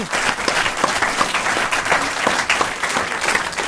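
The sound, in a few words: audience applause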